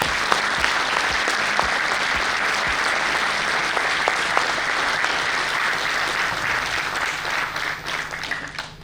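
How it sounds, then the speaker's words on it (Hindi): Sustained audience applause for parents at a felicitation and success party for bankers, a dense, steady wash of many hands clapping throughout, tapering slightly toward the end with no voices over it. "तो एक तालियां पेरेंट्स के लिए भी बनती है यार"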